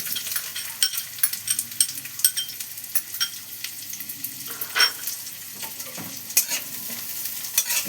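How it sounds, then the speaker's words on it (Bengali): Raw onion pieces frying in mustard oil in a pan, a steady close sizzle with occasional stirring scrapes and clinks, no talking. "এই যে কাঁচা পেঁয়াজের টুকরোটা দিয়ে দিচ্ছি তেলে"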